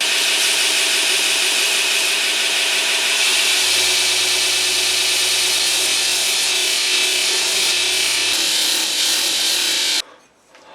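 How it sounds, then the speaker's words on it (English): A knife blade is pressed against the flat platen of a belt grinder, making a loud, steady, hissing grind that holds for about ten seconds before the contact stops abruptly. "next onto the flat platen of the grinder."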